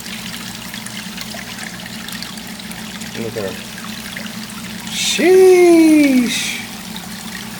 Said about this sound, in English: I gotta add some water in the tank too.